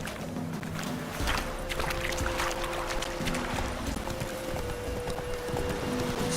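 Hooves of Roach, the horse in The Witcher 3 video game, clip-clop in a steady, continuous rhythm across a busy, dense in-game soundscape with a constant low tone underneath.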